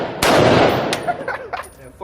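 A single sharp AR-10 rifle shot cracks at an outdoor shooting range, followed by a brief echoing tail and faint scattered noises.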